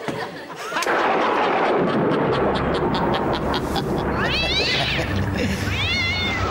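A cat meows loudly, with several rising and falling yowls near the end, over a dense noisy backdrop and some speech.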